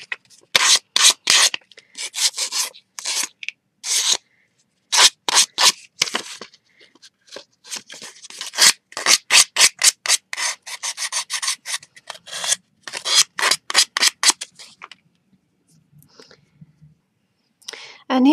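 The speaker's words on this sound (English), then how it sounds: "I'm going to take some fine grit sandpaper" Fine grit sandpaper rubbed by hand over the jagged edge of a thin metal silhouette, heard as close, brisk rasping strokes that come in rhythmic bursts with short pauses, alone without talk.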